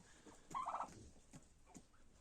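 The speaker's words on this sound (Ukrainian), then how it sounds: "Три таких молодих індика." Young turkeys let out a brief warbling gobble near the start, then only quiet background with a few faint ticks.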